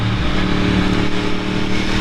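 A naked sport motorcycle engine, likened to a stripped-down R1, rumbles loudly and close by with a deep, throbbing idle that swells slightly as if blipped.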